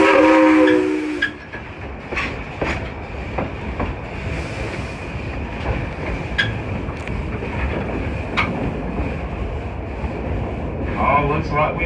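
Dollywood train No. 70 rumbles along the tracks with clacking wheels, a horn sounding briefly at the start, and people talking over the steady noise.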